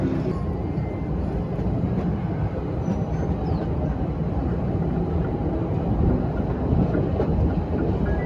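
An amusement park ride train rolls along its tracks with a loud, continuous rumble and faint rattling, steady throughout.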